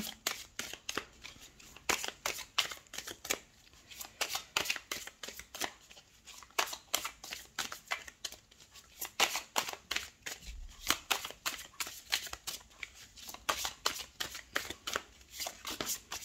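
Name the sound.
shuffling tarot cards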